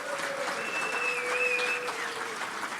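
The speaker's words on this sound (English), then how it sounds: "Let's give them one big giant round of applause." Audience applause at a meeting honoring a red badge and sponsor class, steady dense clapping from a crowd that holds even and loud for a few seconds.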